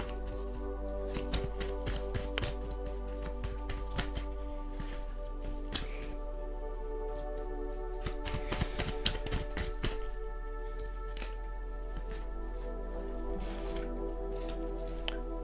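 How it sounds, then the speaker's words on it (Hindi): Handmade tarot cards are shuffled and drawn, giving repeated crisp flicks and riffling taps in irregular bursts. They sound close and fairly soft over a low steady hum, with no talk. "मेरे हैंडमेड कार्ड से मैं और कुछ कार्ड्स निकालना चाहूँगी"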